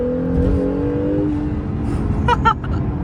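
An Acura NSX with a large rear wing pulls away under acceleration, its engine note rising in steady harmonic tones, then settling into road and cabin rumble with a couple of brief sharp clicks near the end.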